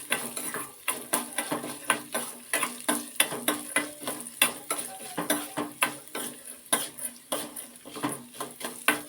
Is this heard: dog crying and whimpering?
no